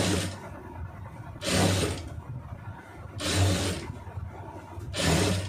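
A sewing machine stitching a round neckline runs in three or four loud bursts of a few seconds each, with short quieter pauses between runs and a low motor hum throughout.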